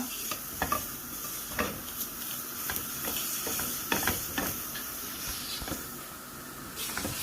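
A spoon scrapes and stirs steadily through flour frying in a pan on low heat, soft frying hiss running underneath with repeated scraping strokes, fairly close and moderate in volume, no voices.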